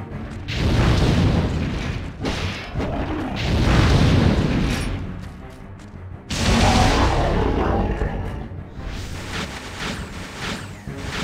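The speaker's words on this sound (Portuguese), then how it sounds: "Esse aqui é um canhão" A cannon fires in the video game Onimusha: Warlords: several heavy booms with rushing, rumbling blasts come in bursts, separated by short pauses, loud and close.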